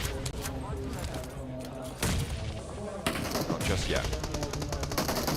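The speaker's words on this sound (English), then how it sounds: "You can see shots actually ringing out across the map towards them" Gunfire crackles across the map during a PUBG Mobile esports match, rapid shots ringing out in bursts beneath steady commentary, with a grenade thump and a louder volley near the end.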